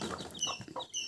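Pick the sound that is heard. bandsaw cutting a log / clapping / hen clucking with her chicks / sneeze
hen clucking with her chicks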